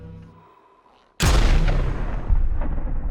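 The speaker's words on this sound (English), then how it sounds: "Multiple gunshots ring out in the kitchen." Several gunshots fired indoors in a kitchen break out suddenly after near silence, loud sharp reports with booming echo that keep ringing and overlapping for a couple of seconds.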